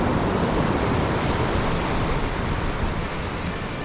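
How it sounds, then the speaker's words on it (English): Surf on an open beach during beach fishing, a loud, continuous wash of breaking waves with wind noise, steady throughout and with no talking. "So here's some old school beach fishing."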